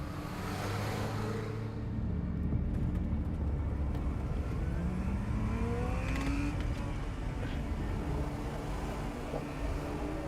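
Car engine in the Life is Strange game revving hard like a sports car, loud and continuous with rising and falling pitch sweeps, no voices over it.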